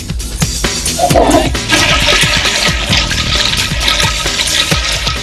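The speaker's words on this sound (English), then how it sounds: "get the towels ready for the Bears' Wayman Bryant and this unscheduled Gatorade dunking." Water is dumped from a Gatorade cooler onto a football player on the sideline: a loud, close splashing gush that pours and sloshes for several seconds, with no talk over it.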